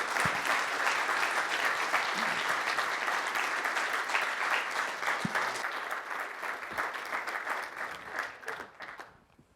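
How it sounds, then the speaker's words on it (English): An audience at a humanities forum applauds a professor after a lecture, sustained, fairly distant clapping that thins out and fades away toward the end. "Let's all give a warm round of applause for Professor Hitz."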